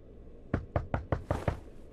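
Knocking on an apartment door in the video game The Wolf Among Us: six firm, evenly spaced raps in a steady rhythm, close and loud, with no talking over them.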